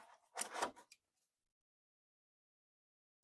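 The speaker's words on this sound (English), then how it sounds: "We're going to cut these out." Scissors cutting out small paper pieces for a junk journal, one brief close crisp snip-and-scrape lasting under a second, then near silence.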